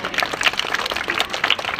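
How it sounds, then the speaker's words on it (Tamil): Audience clapping for participants at a Kamarajar birthday speech competition in Cuddalore district, a steady, moderately loud patter of many hands with no voices over it. "முதல் உங்களுக்காண்டி ஒரு கைத்தட்டி சிறப்பு"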